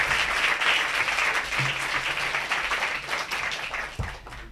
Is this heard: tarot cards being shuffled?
no